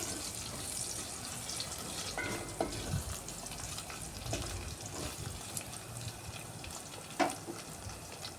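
Chopped onions and green chilies fry steadily in a pan for a capsicum tomato curry, a continuous dense sizzle with occasional stirring scrapes and clinks, close and moderately loud, no voices.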